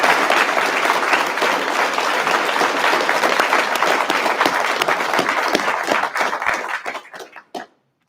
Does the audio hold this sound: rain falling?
no